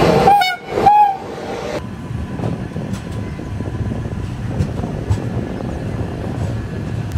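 Onboard rumble of train 12193 Yesvantpur–Jabalpur at a station halt near Hindupur, opening with two loud, close horn toots in the first second, then a steady low rolling and rattling din of the carriage for the rest.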